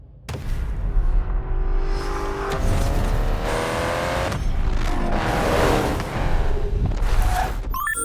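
A Honda S2000 with a VTEC engine revs hard in the racing game Need for Speed Payback, its loud, high-pitched wail climbing and shifting through gears continuously, with tire and road noise underneath.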